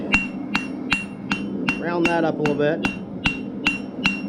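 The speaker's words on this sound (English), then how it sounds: "putting some hammer texture all the way down it" A hammer strikes hot steel at a forge, giving a ringing metallic hit about every half second as texture is worked along the piece for a meat turner; someone speaks briefly between blows.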